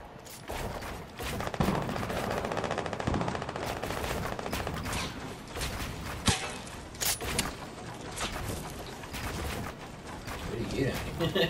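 Video game gunfire, including sniper rifle shots, comes as repeated loud cracks and rapid bursts of shooting, with players talking throughout.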